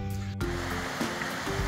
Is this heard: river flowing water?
yes